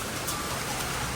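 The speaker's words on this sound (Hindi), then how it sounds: "वही पहले ओले की बारिश हमारे नए घर में है नहीं?" Hailstones fall in a May hailstorm at a new house, making a steady, dense, close patter with a few sharper ticks throughout.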